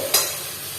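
Masala sautéing in a pan, a bright close sizzle opening with one sharp stir or scrape, then settling into an even hiss, with no talk.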